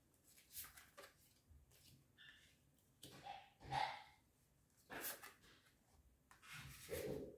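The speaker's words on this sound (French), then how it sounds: "c'était ma petite chienne qui aboie. Vous avez dû l'entendre." A small female dog barking indoors: several quiet, irregular yaps and bursts spread across the stretch, heard at a distance with some soft rubbing and knocking noises between them.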